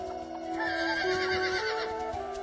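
A horse neighs and whinnies as a sound effect in a mythological narration, a loud, sustained call with a hint of hoof clopping, no talk over it.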